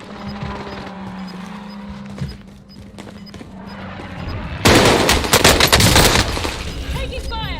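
Video game gunfire in a combat match, bursts of shots breaking out suddenly and loudly partway through, over background game sounds and someone talking.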